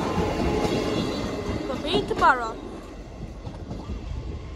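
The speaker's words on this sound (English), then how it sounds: "You have to follow that train." A train rumbles past a level crossing in Sleaford, a continuous low roar with wind buffeting the microphone and a short squealing wheel sound in the middle, while people talk nearby.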